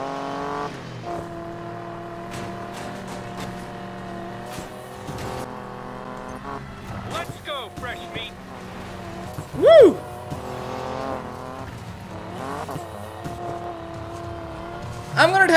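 A Subaru races in the Need for Speed Payback video game, its engine droning steadily and climbing in pitch through gear changes, with brief revving surges and a short loud burst near the end.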